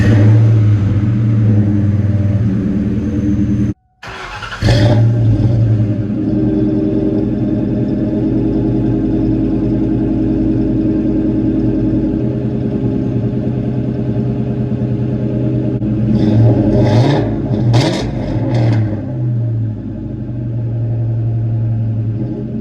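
2003 Ford Mustang GT V8 with Flowmaster Super 10 exhaust starts with a brief crank, catches into a loud rumbling idle, then gives several sharp revs near the end before dropping back to idle.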